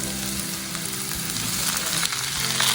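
Pepper and garlic sautéing in a pan for crab gravy, a dense, continuous sizzle close up and fairly loud, with faint stirring scrapes underneath and no voices.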